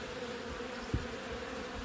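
Honey bees streaming out of their hive, a swarm raiding another colony's hive, making a steady dense buzzing drone throughout, with one brief low thump near the middle.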